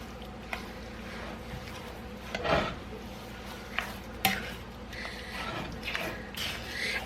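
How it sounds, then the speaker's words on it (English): Shredded carrot for carrot cake jam being stirred in a pot, with soft scraping and a few light clinks of a utensil against the pot, quiet and close without talking. "So go ahead and put that in. And give it a stir."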